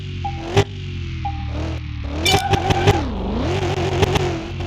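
A NASCAR race car engine in the video game Car Mechanic Simulator revs up and down in wavering pitch sweeps, a steady loud drone broken by a few sharp clicks and clatters.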